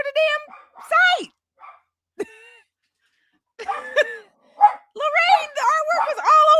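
Dogs bark in short, sharp bursts close by, with whimpers and yips between the barks and quiet gaps in between, while people talk over the barking.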